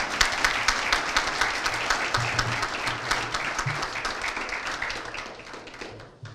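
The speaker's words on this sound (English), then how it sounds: "you deserve another round of applause" A crowd at a hall of fame ceremony applauds steadily, many hands clapping together before the applause gradually fades out.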